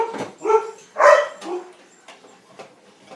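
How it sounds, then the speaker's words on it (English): Dogs bark nearby indoors, a few loud uneven barks and yelps in the first half, then fainter trailing sounds and light clicks, with no voices over them. "Somebody must be here because the dogs are barking."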